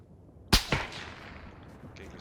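Gunfire from above in the PUBG battle royale game: a sharp loud shot followed quickly by a second crack, each ringing out with a fading echo tail over quiet background.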